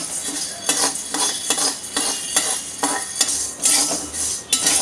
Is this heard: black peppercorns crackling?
yes